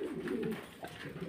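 Fancy pigeons at a farm in Faridpur give low, continuous cooing close by, a thick warbling murmur with a few brief higher notes mixed in.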